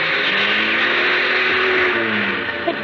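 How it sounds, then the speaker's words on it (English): A car engine strains and revs while the vehicle is stuck in reverse, a steady mid-pitched whine and drone sustained for a few seconds as a radio drama sound effect, with no voices over it. "He shoved the car into reverse."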